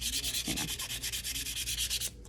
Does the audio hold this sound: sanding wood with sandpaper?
yes